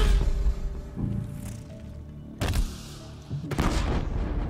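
Explosions in the video game Horizon Zero Dawn, with several sharp booming blasts bursting out over a low rumbling game backdrop, loud and close.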